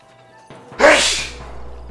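A single loud, close sneeze bursts out mid-clip after a quiet stretch, trailing off into low background noise.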